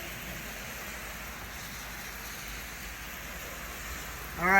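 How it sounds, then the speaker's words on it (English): Heavy rain falls outdoors in a steady, dense hiss that holds evenly throughout, with a brief rising noise at the very end. "now look how much it's raining"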